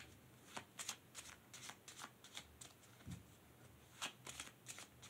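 Oracle cards are shuffled by hand in quiet, rapid bursts of riffling and flicking that repeat steadily, close up and alone with no talking.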